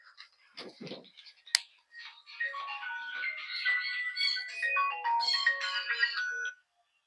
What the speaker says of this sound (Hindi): 1 मिनट रुको बच्चों, फोन आ रहा है मेरा।